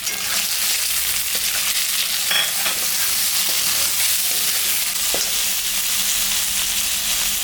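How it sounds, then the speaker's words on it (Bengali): Potatoes sizzle steadily in hot oil in a pan as salt and turmeric go in. A few sharp scrapes and clicks of stirring rise above the continuous, close frying hiss. "আলুটা ভাজা ভাজা হয়ে গেছে এখন আমি লবণ স্বাদ মতন আর পরিমাণ মতন হলুদটা দিয়ে দিলাম"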